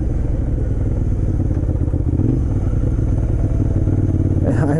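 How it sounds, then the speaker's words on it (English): A motorcycle engine runs steadily at close range with a rough, thrumming idle on a mountain road, with a short throttle blip rising near the end. "I am blipping the throttle all wrong."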